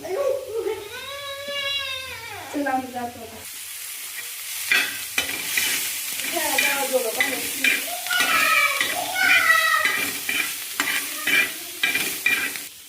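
Hot oil sizzles and crackles as soaked dried fish is stirred in a pan, with a drawn-out vocal sound at the start and voices in the background.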